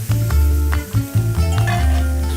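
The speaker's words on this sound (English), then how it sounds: "Now we're gonna add our fish stock, which has been mixed with some saffron and other spices." Saffron-spiced fish stock pours onto toasting paella rice, setting off a loud, steady sizzle broken by several scraping stirs and pauses, with no talk.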